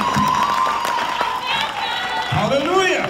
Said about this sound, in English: Clap for Jesus. Clap for Jesus.